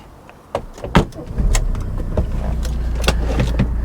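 An old VW Passat estate bought cheaply starts to move, with a few sharp clunks and thumps from inside the car before a low steady engine rumble sets in, close up.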